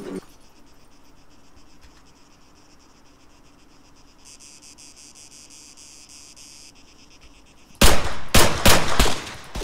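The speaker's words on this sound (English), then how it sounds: "Taking fire." Arma 3 gunfire rips out in a few loud, close bursts near the end, following a long stretch of steady insect chirring and faint ambient noise.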